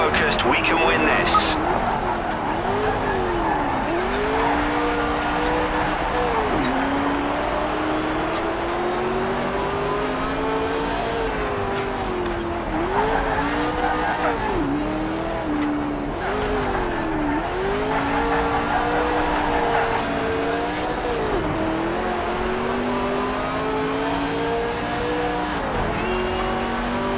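A Ford MkIV race car in Project CARS 3 lapping Circuit Zandvoort GP, the engine rising and falling through repeated gear changes and revs with tyre squeal in places, loud and continuous, while a voice talks over it.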